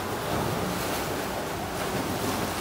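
Water washing and surging against rocks outdoors, a steady broadband rush with wind buffeting the microphone and no voices.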